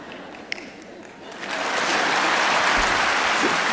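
An audience bursts into applause at an outdoor concert at the Herodion, rising from a lone clap and scattered hands into dense, steady clapping that fills the space.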